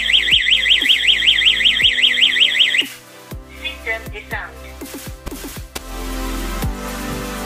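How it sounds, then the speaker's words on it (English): Loud, fast-warbling electronic siren from a SMART WORLD SW-G66 WiFi/GSM wireless home alarm panel rings steadily for nearly three seconds, then cuts off, leaving scattered clicks, taps and light handling noises. "When alarm in arm mode, per sensor detect movement, alarm will ring."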